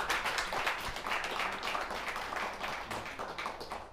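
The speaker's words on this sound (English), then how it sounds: "give Tracci and her mom a big round of applause." A live stage audience gives a big round of applause for Tracci and her mom, with dense, steady clapping that fills the whole stretch at an even level.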